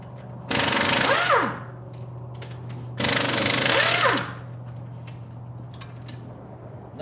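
Nitro Aircat air impact wrench loosening diesel cylinder head bolts, two loud rattling bursts of about a second each separated by a pause, with faint shop clatter in between.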